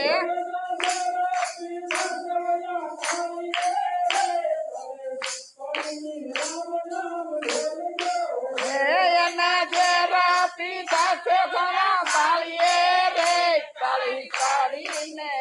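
Hands clap in a steady rhythmic beat along with a devotional Ram bhajan, the sharp claps sounding over sung voices and harmonium-like tones throughout.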